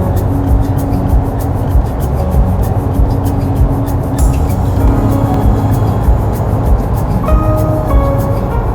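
A car cruises along scenic US Highway 16 through a canyon in Bighorn National Forest, Wyoming, giving off a steady, loud, broadband road and wind roar with no pauses or talk.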